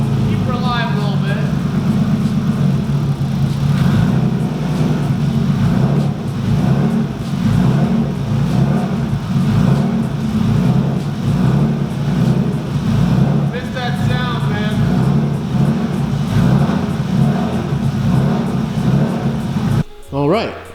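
A Nissan 240SX engine idles just after a cold start, running rich with a steady low rumble that rises and dips slightly, close by with occasional talk over it.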